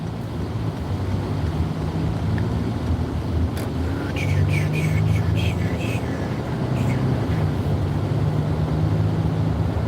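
Steady road traffic hum of cars passing by on a road trip, heard from inside or beside a vehicle with wind noise, while people talk briefly over it.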